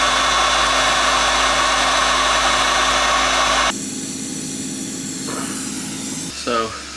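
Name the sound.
generator and sandblasting a boat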